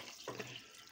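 Water poured into a pot to cook veg biryani in a pressure cooker, a short faint splash of running liquid lasting under a second, heard alone with no talk.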